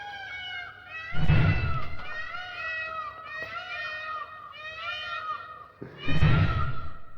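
Loud, repeated high-pitched peacock calls ringing out around 4 a.m. in Mohali, with two bursts of rumbling noise between, echoing in open morning air.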